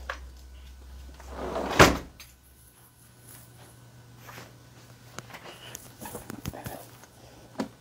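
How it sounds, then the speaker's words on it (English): A house door is opened to let dogs outside, giving one loud thump or clatter near the start, then quieter scuffs, small knocks and light movement sounds as the dogs head out. "Excuse me while I let my dogs out."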